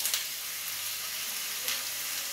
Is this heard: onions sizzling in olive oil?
yes